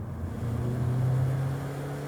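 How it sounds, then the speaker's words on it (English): A 2019 Mazda 6 engine accelerates with a steady, rising drone heard from inside the cabin, moderately loud and without voices. "But this engine has a really mean tone when you get into it."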